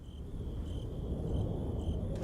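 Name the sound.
crickets and wind ambience in Resident Evil 4 video game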